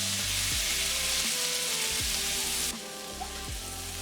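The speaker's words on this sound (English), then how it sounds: "Add in your kimchi and stir fry until the kimchi is reduced and browned." Kimchi stir-frying in a pan gives a steady, loud hiss of sizzling oil, with rhythmic scrapes and knocks of a utensil pushing the food around.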